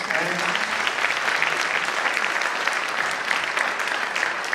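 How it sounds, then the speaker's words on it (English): An audience at a civil court judge induction ceremony applauds steadily, a dense wash of clapping hands that holds at an even level throughout with no talk over it. "So let's give him a round of applause"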